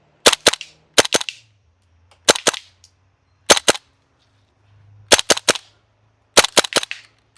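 Pistol shots fired at targets outdoors come in quick pairs and triples, sharp loud cracks separated by short pauses, close and with no talk.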